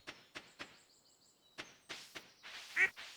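A goose in Stardew Valley honks in several short, sharp bursts, spaced unevenly and fairly close, with a few softer calls in between.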